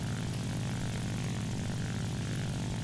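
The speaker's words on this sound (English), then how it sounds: "I'm right back over the airbase with this IL-2." A Soviet IL-2 propeller ground-attack aircraft in the War Thunder combat game drones with a steady, loud piston-engine roar and propeller buzz, unbroken and close throughout, with no voices.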